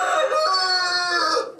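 A prize-winning Frizzle chicken, a curly-feathered show breed, lets out one loud, close, drawn-out clucking crow lasting over a second, heard alone and tailing off at the end.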